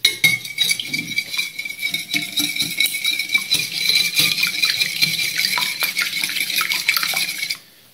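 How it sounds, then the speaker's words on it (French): Two whole eggs and a yolk beaten for an omelette-style tart filling, a brisk, continuous clinking of utensil against bowl that rattles on for several seconds at close range before stopping abruptly. "Ensuite vous allez battre un omelette"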